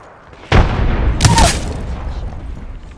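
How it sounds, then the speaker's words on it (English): A heavy grenade blast from the Apex Legends video game erupts sharply and loudly, followed moments later by a second bright burst, then a rumbling decay. "Grenade set."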